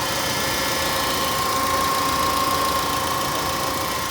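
A car engine with a worn motor mount idles steadily, a constant close mechanical hum with light vibration and no pauses.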